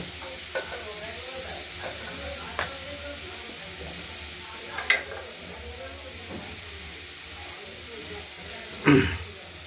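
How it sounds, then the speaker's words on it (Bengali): Spoon stirring a bharali fish mixture frying in a pan, with a low steady sizzle and a few scattered scraping knocks, one sharper clatter near the end. "একটু নাড়াচাড়া করব।"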